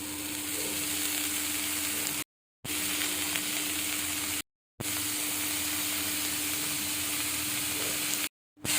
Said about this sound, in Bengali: পনিরগুলো দিয়ে আবারও খুব ভালো করে একটু ভেজে নেব।